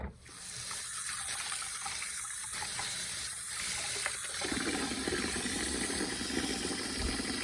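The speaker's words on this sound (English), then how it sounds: "The filter just pops off, so we'll give that a rinse and see how it goes." Tap water runs steadily over the filter of a Breville 3X Bluicer juicer in a sink, a continuous close hiss that changes tone partway through as the flow hits the mesh.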